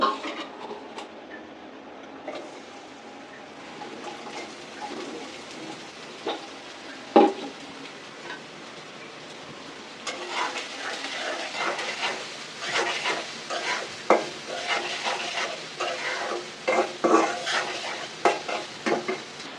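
Onions fry in a pan for eggs with a steady sizzle. About halfway through, louder, busier crackling and scraping stir noises break in, close and continuous.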